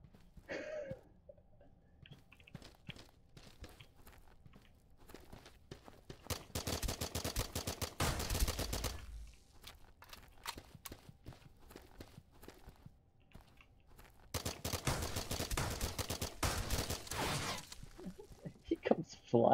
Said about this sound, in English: Point blank shotgun.